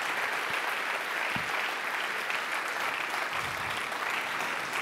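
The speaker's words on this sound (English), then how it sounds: "Applaud for them. Let's hear it for them." Audience applause at the opening of a technology conference, steady dense clapping from a large crowd filling the whole stretch without pause.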